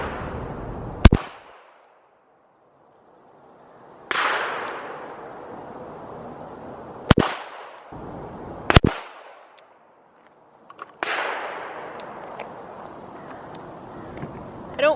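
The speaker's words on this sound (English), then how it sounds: "So I'm gonna shoot a little more and see what happens." A .38 snub-nosed revolver fired outdoors, several loud sharp reports spaced a few seconds apart, each followed by a ringing echoing decay, with a quick double shot in the middle.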